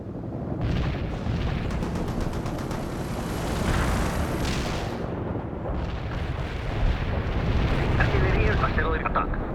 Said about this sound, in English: We can deploy and lay down the heavy barrage.